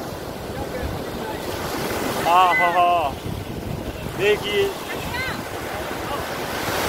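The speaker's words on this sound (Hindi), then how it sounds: "समुद्री लहरें धनुष कोटि का आनंद लेते हुए" Sea waves wash steadily against the shore at Dhanushkodi, a constant wind-blown roar of surf with a voice speaking briefly over it.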